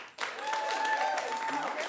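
A comedy club audience bursts into applause, clapping rising abruptly and staying full and steady, with a voice calling out over it.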